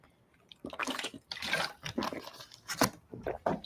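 Wet slurping sips of water, a few irregular mouthy gulps and splashy drinking sounds close to the microphone, loud in short bursts.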